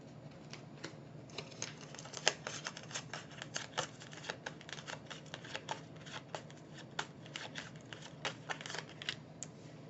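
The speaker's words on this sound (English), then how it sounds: "you can just sit tight here while I do my shuffling and card laying" Tarot cards are shuffled and laid out with a steady run of crisp flicks and soft slaps, near and fairly quiet, continuing throughout without any talking.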